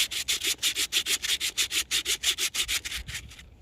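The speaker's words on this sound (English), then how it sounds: "So what I'm going to do is put it on here and sand the glaze off." Sandpaper scrubbing the glaze off a brake part from a 1.9 diesel Mk1 Citroen Berlingo, a rapid even run of about two dozen rasping back-and-forth strokes, close and loud, ending abruptly.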